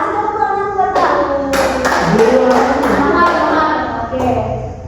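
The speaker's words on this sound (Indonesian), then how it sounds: "Nah, kasih tepuk tangan buat aku." Classroom applause for a student during a micro-teaching lesson on vertebrate and invertebrate animals, a burst of children clapping close by, mixed with taps and thumps, with children's voices talking over it.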